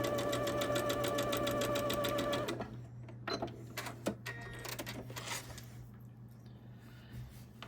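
A sewing machine stitches a quilt block seam in a steady close run for about two and a half seconds, then stops, leaving quieter handling clicks and rustles of fabric.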